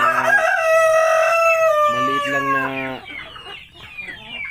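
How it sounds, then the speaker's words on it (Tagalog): Fighting cocks kept for cockfighting crow loudly and up close, one long crow followed by clucking, with someone talking briefly toward the end. "So ito yung mga manok nila."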